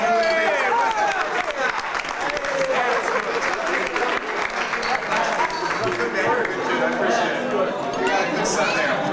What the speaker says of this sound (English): Give my buddy a nice round of applause.